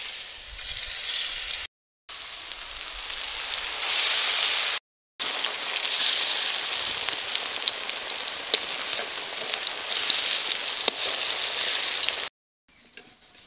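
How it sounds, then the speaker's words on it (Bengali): Banana flower and prawn koftas fry one by one in very hot oil, giving a steady close crackling sizzle that runs almost unbroken, with two brief gaps and a drop to near silence at the end. "এবার এক এক করে ভেজে নেব।"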